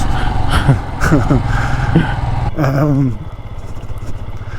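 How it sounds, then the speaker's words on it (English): A 400cc air-cooled Royal Enfield Himalayan motorcycle riding on a high mountain road in Ladakh: a steady engine drone with a few revving swells that fade into wind and road noise. "the bikes that we're on, the 400cc air-cooled Royal Enfield Himalayans"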